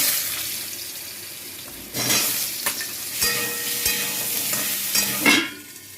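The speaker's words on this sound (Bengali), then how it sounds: "তার জন্য আমি কড়াইতে তেল দিচ্ছি, সরষের তেল দিয়ে দিচ্ছি। আলুগুলোকে ভেজে নেবো।" Potatoes frying in mustard oil in a wok, a close sizzle with bursts of louder crackle and stirring scrapes at intervals, no talking.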